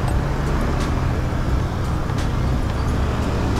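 Busy road traffic at school home time on an Indonesian street, a steady roar of passing cars, buses and motorbikes heard from close by, with a brief hiss that may be an air brake and no talking.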